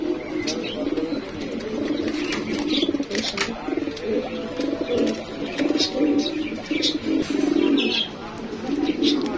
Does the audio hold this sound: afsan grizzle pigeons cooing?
yes